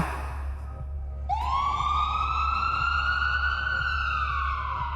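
A police car and ambulance siren starts abruptly and rises into a loud, steady wail that holds close by, with a low hum underneath.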